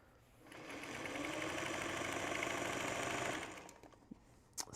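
A sewing machine runs steadily for about three seconds, stitching straight down a fold over existing stitches, with a brief start and stop and a few faint clicks after it halts.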